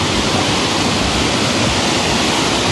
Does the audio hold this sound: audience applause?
no